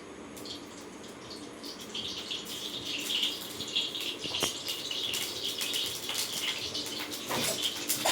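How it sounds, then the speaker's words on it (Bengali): Oil poured into a heated kadai, a continuous close hissing rush that grows louder partway through, with a faint click or two, no talking. "আমি কড়াই তেল দিয়ে দিচ্ছি।"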